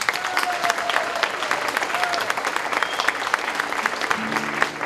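Steady applause from an audience at an outdoor fado night during a church festa in Turlock, California, greeting the guitarists and accordion player, with scattered whistles and crowd murmur running through the whole stretch.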